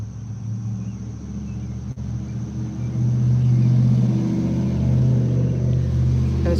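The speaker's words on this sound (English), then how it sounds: "There was a red truck going by." A red truck drives past with a steady low engine rumble that swells louder and closer midway, holding a broad continuous drone to the end, with no talk.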